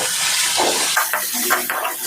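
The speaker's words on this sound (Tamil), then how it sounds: "நம்ம சேர்த்துக்கிட்ட இஞ்சி பூண்டு பேஸ்ட்டை நல்லா வதக்கி கொடுத்துடலாம்" Ginger garlic paste sizzles in hot oil while being sautéed for a chicken leg piece masala, a steady loud hiss with faint stirring scrapes near the pan.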